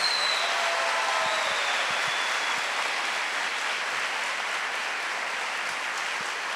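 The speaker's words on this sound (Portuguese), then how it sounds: "eu quero pedir para você que está aqui, uma salva de palmas para aqueles que estão nos acompanhando" A large audience applauds at a televised religious event, a broad, steady wash of clapping that holds strong throughout and fades only slightly toward the end.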